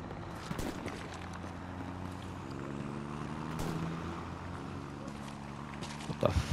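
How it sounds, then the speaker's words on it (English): A low, steady airplane engine drone in the video game Hell Let Loose hums continuously with a few clicks and knocks on top, ending in a sharp thump. "It sounds like someone's driving a plane beside me."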